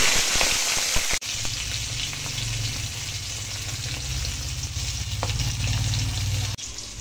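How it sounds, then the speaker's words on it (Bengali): Katla fish heads fry in hot oil in a wok, giving a steady, dense sizzle close by that carries on without pause, with occasional small spits and pops. "কাতলা মাছের মাথা কেটে ধুয়ে কড়াইতে এবার তেল গরম করে নিচ্ছি।"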